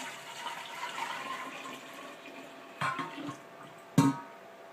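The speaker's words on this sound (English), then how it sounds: "And now I'm going to pour this sugar and tea in here." Sweetened tea for kombucha pours steadily into a jar with a hissing splash, broken by a couple of knocks of glass or a lid.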